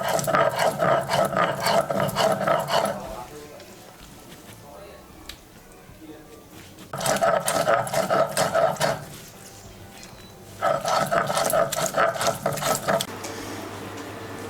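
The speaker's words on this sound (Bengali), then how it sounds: "অল্প অল্প করে শিমগুলো দিয়ে আমি বেটে নেব শিলনোড়াতে।" Flat beans ground by hand on a shil-nora grinding stone, giving three bursts of rhythmic, rapid scraping strokes separated by quieter pauses, with a person speaking between them.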